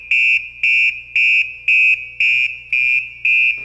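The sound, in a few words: PASS device alarm on breathing apparatus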